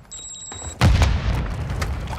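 Grenade explosion in the shooter Modern Warfare 2 during a team deathmatch, a short electronic beep followed by a deep, loud boom that rumbles and fades, with scattered gunfire shots behind it.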